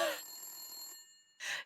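In a horror video game, a telephone rings in two short bursts separated by a pause, fairly faint with a thin electronic tone and no talking.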